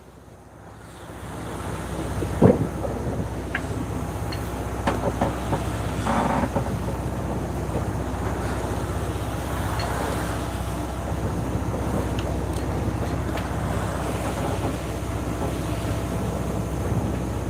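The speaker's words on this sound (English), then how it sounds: "I let the line go and the sail just came flying out" Out at sea on a sailboat between Vanuatu and the Solomon Islands, a sail flaps and rattles in strong wind over steady waves and gusts buffeting the microphone, with one sharp snap near the start.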